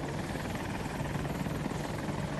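A helicopter in a military video game on the Hourglass map drones steadily with a dense, continuous rotor roar at close range, with no talk over it.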